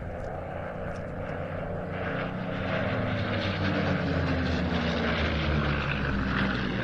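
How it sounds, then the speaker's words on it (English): A Spanish-built post-war Messerschmitt 109 with a Rolls-Royce Merlin 500 engine flying at an airshow, its steady propeller drone loud and sustained, gradually swelling and shifting in pitch as it passes. "our Messerschmitt is a Spanish-built post-war example. powered by no less than a Rolls-Royce Merlin 500"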